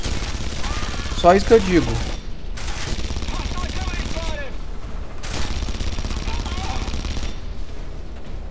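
Gunfire from the video game Red Faction Guerrilla comes in several sustained automatic bursts with short pauses between them, under someone talking throughout.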